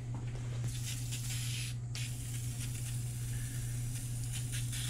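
Carb cleaner sprayed from an aerosol can into the carburetor of an old 1950s gas-powered air compressor, heard as a steady close hiss with a brief break, over a constant low hum.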